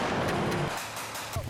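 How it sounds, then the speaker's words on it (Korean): Mortars and a 105mm towed howitzer fire during a night exercise at a Korean army combat training centre. A loud, booming report opens the clip and its reverberation decays, then a second sharp blast comes near the end. "박격포가 발사되고 105mm 견인포가 불을 뿜는다."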